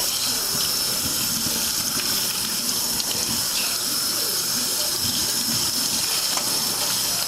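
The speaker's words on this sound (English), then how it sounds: "I just turn on the water, and I don't want it cold. I use warm water" Warm tap water gushes steadily into a kitchen sink for rinsing, a constant close, loud hiss and splatter with no break throughout.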